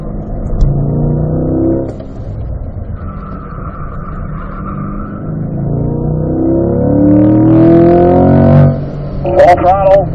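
A race car on a track, its engine droning loudly from close by, then climbing in pitch as it accelerates at full throttle, with a brief voice near the end.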